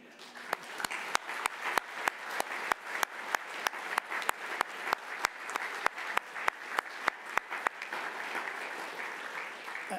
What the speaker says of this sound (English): So I think we should give our students a round of applause